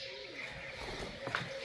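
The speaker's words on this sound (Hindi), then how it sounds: "चिड़ियाओं का चारों तरफ शोर।" Birds call around a farm village at sunrise, with a dove's low cooing and scattered chirps over steady outdoor ambience, moderately close and continuous throughout.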